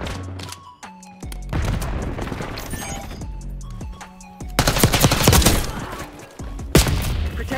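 Gunfire in a Call of Duty: Black Ops 6 match, with dense bursts of automatic fire and sharp shots over game music, growing heavier and louder toward the end.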